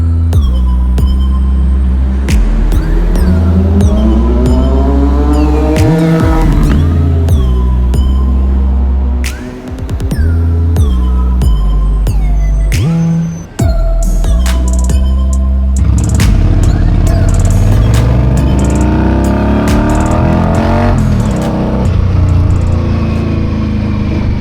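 Motorcycle on a sunset ride from Manhattan to Queens in New York City, with a loud, steady engine drone that rises and falls as it shifts through gears. Traffic noise and a passing siren sound faintly in the background.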